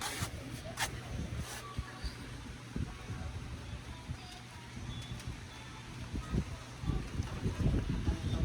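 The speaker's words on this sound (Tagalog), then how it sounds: "Pabugso-bugso ang hangin eh." Gusty wind buffets the microphone outdoors at a charcoal-making site, a steady low rumble that swells and fades, with voices faintly in the background.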